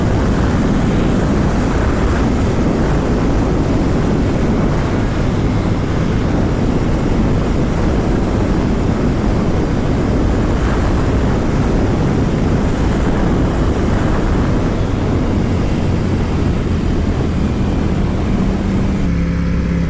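Ducati Panigale V4 S ridden fast on an open road, a loud continuous engine roar blended with heavy wind rush throughout, no speech.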